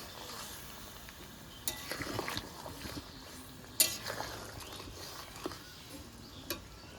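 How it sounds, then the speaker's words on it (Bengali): Wooden or metal spoon scraping and stirring through fish curry as mustard paste is worked in, a few soft scrapes and clicks over a low simmering hiss, close and fairly quiet. "সর্ষে বাটাটা দিয়ে একটু নেড়ে নেব"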